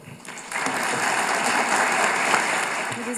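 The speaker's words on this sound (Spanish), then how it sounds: "Le damos un cálido aplauso, por favor." An audience at a business forum bursts into warm applause, a dense, steady wash of clapping that swells quickly and holds for several seconds.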